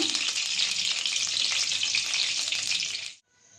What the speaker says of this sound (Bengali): এবারে আমি লুচিগুলো এক এক করে ভেজে নেব